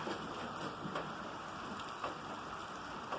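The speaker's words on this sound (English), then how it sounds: "It's really raining." Heavy rain pours down steadily on a muddy outdoor area, making a dense, even hiss with scattered louder drops. The sound is moderately quiet and constant, and no one speaks.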